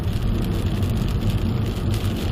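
Steady rain drums on a car windshield, a dense, continuous patter over a low rumble from inside the vehicle.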